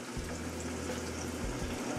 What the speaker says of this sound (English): I'm frying this on medium high heat